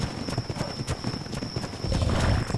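Horse hooves clip-clop in the ARK video game, a steady stream of quick hoof beats with several horses, loudest toward the end, over a continuous high game tone.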